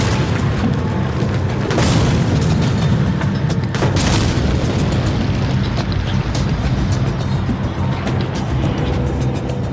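Hand grenade thrown and exploding during the D-Day landings, heavy booming blasts in a dense battle din, with sharp bursts near two and four seconds over a constant roar.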